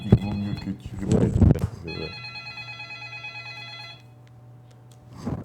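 Telephone ringing during a French-language interview: a voice speaks first, then a bright electronic ring sounds steadily for about two seconds, fading into quiet room noise before a voice returns briefly.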